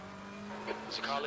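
A race car closing in fast during an online Assetto Corsa Competizione race at Spa, a steady engine drone rising into a sharper whine as it draws near, with a voice talking over it.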